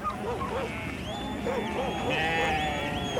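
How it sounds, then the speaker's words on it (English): Several sheep bleat, their wavering calls overlapping at close to mid distance and repeating every half second or so under a faint background hum, while a narrator's voice runs alongside. "Part of the problem was sheep."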